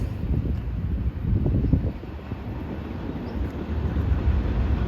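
A short CN freight train rumbles past at Dorval, Quebec, with low, rolling wheel noise and clanking, steady and fairly close, with wind buffeting the microphone.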